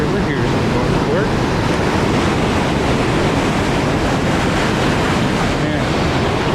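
The Wallace River near Northport flows strongly, a steady broadband rush of moving water that fills the whole stretch, loud and close, with some wind buffeting the microphone.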